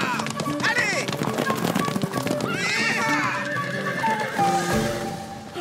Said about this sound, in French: les chevaux vont s'emballer.